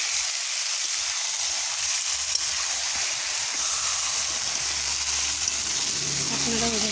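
Plucked chicken meat sautéing in a pan: a dense, continuous hissing sizzle holding steady throughout, with a faint voice and some low tones entering near the end.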